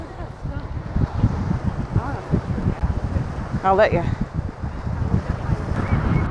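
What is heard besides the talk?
strong wind by a lake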